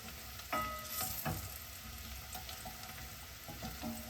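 Onions softening in a hot pan for seafood chowder, a soft continuous sizzle with a few louder stirring scrapes near the start, fairly quiet and heard alone.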